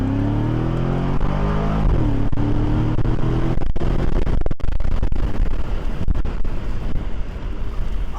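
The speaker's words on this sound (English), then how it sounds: "I'm just going to accelerate over to this stop sign here" A 2006 Cadillac XLR-V accelerates hard toward a stop sign, its engine note rising in pitch and then continuing as a loud, steady roar with heavy wind rush over the microphone.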